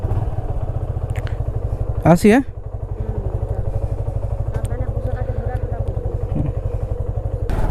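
A loaded motorcycle idles with a steady, even putter, then revs briefly as it sets off on a monsoon road trip from Kolkata toward Darjeeling, the engine loud and close throughout with a short spoken word over it.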